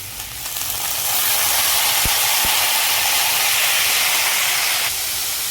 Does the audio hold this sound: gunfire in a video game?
no